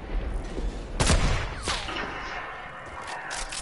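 Gunfire in the video game Fortnite during a squad match. Several close, loud shots and rapid bursts crack in quick succession, with sweeping noise trailing between them.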